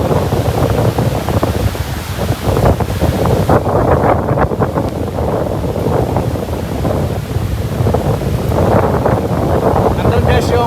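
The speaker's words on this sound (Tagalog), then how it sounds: "Yan ang lalaki ng mga alon." Big ocean waves crash and surge continuously at Boracay, Philippines, during Super Typhoon Egay, while strong wind buffets the microphone, loud and close throughout.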